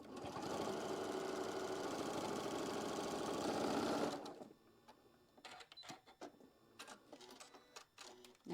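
A sewing machine stitching the last piece onto a quilt block, running steadily and close for about four seconds, then stopping, followed by soft handling noises of fabric.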